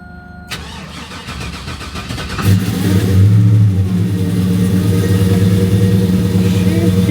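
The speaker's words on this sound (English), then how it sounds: "Let's get this nice cold start going." A supercharged, fuel-injected pickup truck engine cold-starts with a cranking burst, then settles into a loud, rough idle with a deep rumble that holds steady and close.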